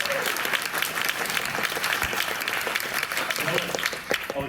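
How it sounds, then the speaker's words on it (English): A crowd at a PAX 2022 game jam applauds the first team on stage, a thick, steady roar of clapping lasting a few seconds with some voices mixed in. "Great big round of applause for DragonBear"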